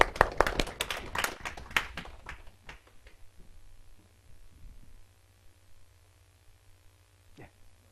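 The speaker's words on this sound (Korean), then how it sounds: "일단 여기까지 박수 한번 칠까요, 우리?" Brief burst of clapping from a small lecture audience, loud at first and quickly dying away into scattered claps and quiet room hum.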